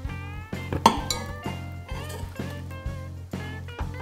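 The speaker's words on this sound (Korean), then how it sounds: "밑에는 살짝 이렇게 갈색이 날 정도로 그릇에 바로 옮겨보도록 할게요." A finished frittata is slid from the pan onto a dish, giving a string of close metallic clinks and scrapes of utensil against pan and plate with no talk.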